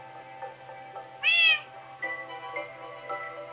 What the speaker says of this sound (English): Do I have cats in here?